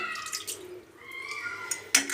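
Water poured over a surface to rinse away scrubbed salt-water scale, a soft running splash with a brief louder gush near the end.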